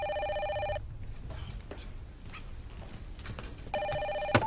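A telephone bell rings in two electronic trilling bursts, one at the start and another near the end, with a quiet pause between and no talking.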